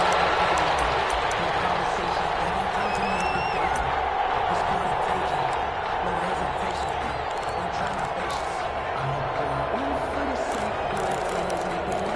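Video game crowd noise in an NFL stadium before a Cleveland Browns versus New Orleans Saints matchup, a steady dense roar of cheering spectators that holds evenly throughout with no talk over it.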